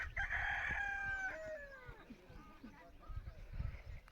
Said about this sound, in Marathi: तर तुम्हाला आम्ही तिथं कोंबड्या दाखवतो.